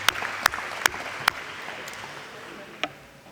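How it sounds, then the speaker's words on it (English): Sparse audience applause at a senior class luncheon: a handful of distinct claps spaced out, fairly faint against a quiet room, tapering off with one last clap. "So let's give a big round of applause to our advancement team for doing this for us today."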